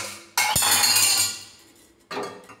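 A cooking pot is set down on a kitchen stove, ready for tempering gongura dal. One sharp metallic clank is followed by a ringing clatter. A second, softer knock comes about two seconds later, with no voices.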